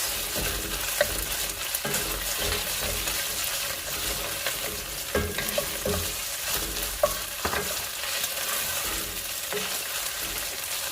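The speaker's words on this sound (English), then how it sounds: "Going in with the onion. Let's saute that a little bit." Onion sautéing in a pan for sopita de conchas, a steady close sizzle with frequent scraping stirs and a few sharp utensil knocks, with no talking.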